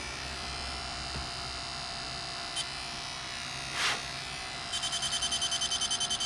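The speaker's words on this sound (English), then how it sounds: "one quick breath sets that thing off like crazy" A refrigerant leak detector on a car air-conditioning system hums steadily, then after a breath passes across its sensor it breaks into a fast run of sharp, evenly spaced beeping pulses near the end.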